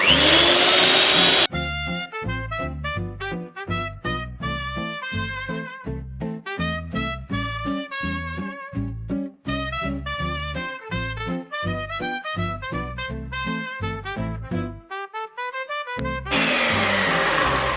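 An electric hand mixer whips cream, whirring continuously at high speed, its motor pitch wavering and stuttering as it works, loud and close with no talking.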